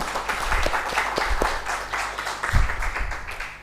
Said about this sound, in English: once again let's give a big round of applause